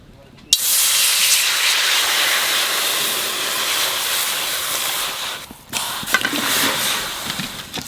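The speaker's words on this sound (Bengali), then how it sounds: "এইবার ইঁচড়টা একটু সেদ্ধ করে নেব।" Raw jackfruit boiling for a Bengali mutton curry gives a loud, steady steamy hiss close by that starts abruptly, dips briefly, then continues, with no talk.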